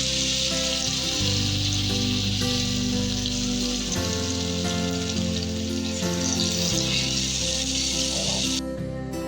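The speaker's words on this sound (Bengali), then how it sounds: "এইভাবে বাকি বড়াগুলো আমি ভেজে নেব" Pumpkin flower fritters fry in hot oil, a continuous bright sizzle running loud and steady throughout while a low tonal hum sits beneath it, with no voices.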